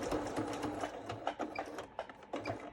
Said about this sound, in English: I will back stitch on this so I don't have to tie it off or tape it in the back